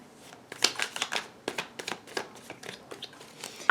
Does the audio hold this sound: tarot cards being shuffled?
yes